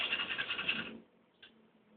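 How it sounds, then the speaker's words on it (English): Thick pastry cream scraped and pressed through a strainer with a spatula, giving a second of close, gritty scratching that suddenly stops, followed by near silence and one faint tap. "So it's important to push it through a strainer. You can use your spatula or use your whisk."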